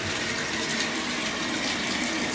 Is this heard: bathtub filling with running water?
yes